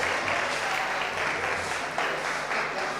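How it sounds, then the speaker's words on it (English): Audience applause for the KNUST team receiving a trophy at the grand finale of a tertiary business quiz challenge, heard as a short burst of fairly distant, steady clapping from a gathered crowd. "Give them a round of applause as they're ready to receive their prizes."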